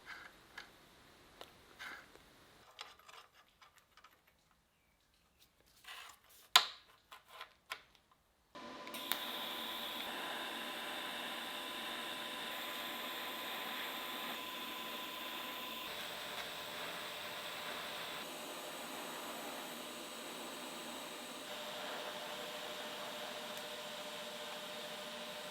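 A TIG welder runs a steady, continuous hiss and buzz while fusing a guard and bearing onto a metal sling bow. It starts after a few quiet ticks and faint clicks and holds an even drone close by, with no talking.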